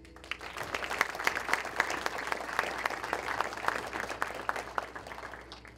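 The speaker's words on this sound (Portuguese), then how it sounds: "Me ajude a receber com a salva de palmas o apóstolo Teté" An audience at a business dinner claps to welcome an apostle to the stage, sustained, dense applause from many hands at moderate distance, with no one talking over it.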